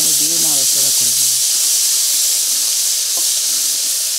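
Ginger and green chili paste hitting hot oil in a pan, a loud, steady steam-like hiss filling the whole stretch, with a short bit of voice near the start.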